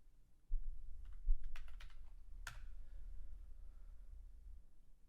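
Bursts of typing on a computer keyboard, a few quick clicks then a sharper keystroke, close and fairly quiet over a low background hum.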